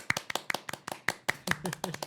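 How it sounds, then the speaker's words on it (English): A few people clap their hands close up in a quiet room, sharp, irregular individual claps about one every fifth of a second, with soft voices murmuring among them. "Clap your hands."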